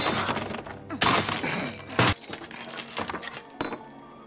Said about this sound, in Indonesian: Lara memukul hancur jam itu